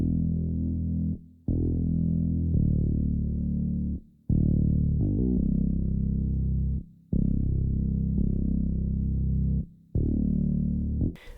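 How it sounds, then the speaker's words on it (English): Deep bass synth patch from the Expand 2 plugin in FL Studio plays a sequence of long sustained notes, each held for over a second with brief gaps between, loud and full with no voices. "Okay, so the very last sound is a bass sound,"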